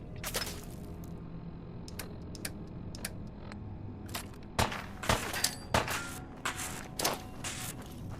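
Gunfire in the video game Fallout 4 crackles as scattered sharp shots, sparse at first, then a denser volley of loud bursts toward the end, heard alone without talk.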